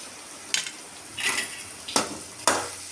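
Mushrooms with salt fry in a pan for a curry, with a faint sizzle under four sharp scraping stirs of a utensil against the pan, heard close up.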